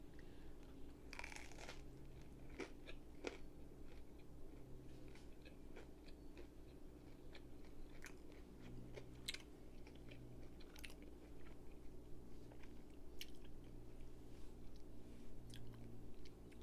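Soft, close chewing and biting on a tuna melt sandwich, quiet crunchy mastication repeating irregularly over a faint steady background hum, with no talking.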